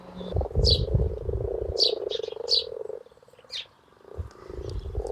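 Male frogs calling in a Welsh garden pond: a low continuous croaking chorus carries under several sharper, higher calls spaced irregularly, with the chorus thinning and dipping briefly partway through.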